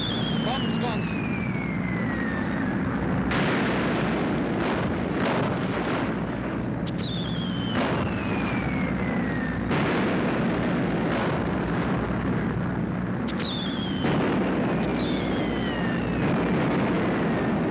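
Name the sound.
bombs exploding after being dropped from aircraft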